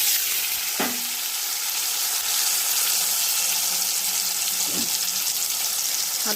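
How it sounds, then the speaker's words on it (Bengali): Potatoes fry in hot oil with cumin, a loud, steady sizzling hiss heard up close, broken by a couple of brief clinks or stirring knocks. "আলুটা ভেজে নেব।"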